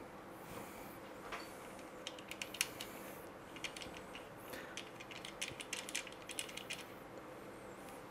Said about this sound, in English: now it's time to lock the locking nuts